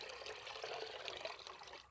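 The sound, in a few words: water poured into gram flour and yogurt mixture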